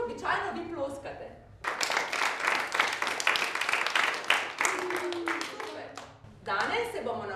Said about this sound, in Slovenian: In sicer kako običajno vi ploskate.